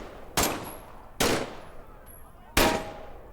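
An M1A1 submachine gun in a World War II video game fires three sharp, evenly spaced bursts, each a loud crack with a short decaying tail over a quiet background.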